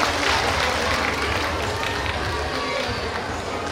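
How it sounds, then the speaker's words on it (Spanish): Steady applause from a crowd honoring the second-place team at a goat broth cooking contest awards ceremony, dense and continuous throughout with crowd noise mixed in. "Venga el aplauso también para ellas"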